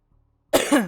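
A single sharp cough close to the mic, short and raspy, after a near-silent moment.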